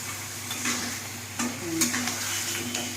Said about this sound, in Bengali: মাছগুলো এখন কষাবো